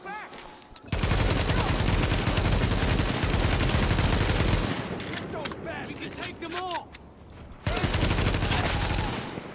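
Sustained automatic gunfire from a rifle in The Division, set in Brooklyn during a clash with incoming hostiles, loud and dense bursts rattling almost continuously with a brief lull near the start.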